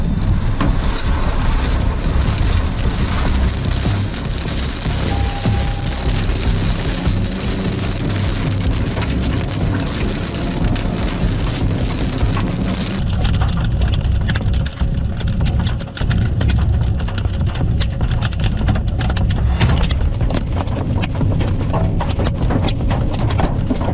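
Hail and heavy rain hammer a storm chase vehicle near a rain-wrapped Texas tornado, a dense, loud, unbroken drumming that continues for the whole stretch with no voices.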